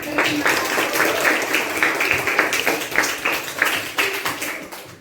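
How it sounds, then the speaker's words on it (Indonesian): Sixth-grade pupils in an Indonesian Islamic primary school classroom clap together, a lively uneven patter of hand claps with some chatter underneath, continuing steadily throughout. "kita kasih tepuk tangan"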